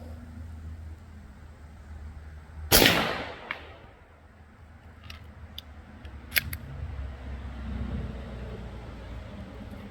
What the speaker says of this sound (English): So this will be my first shot with the round ball.